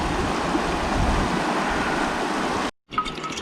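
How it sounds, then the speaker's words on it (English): Clear water streams through a mountain brook in Norway's Rondane area, a steady, close, full rushing wash that cuts out briefly near the end before resuming. "just find some water that's streaming and it's safe to drink"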